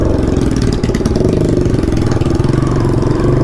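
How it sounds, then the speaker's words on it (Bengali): A motorbike engine runs close by with a loud, steady pulsing putter, slight rises in revs over a few seconds, no voices heard. "আমার এই বিক্রম বন্ধুর বাইক একদম কিন্তু আলাদা লেভেল"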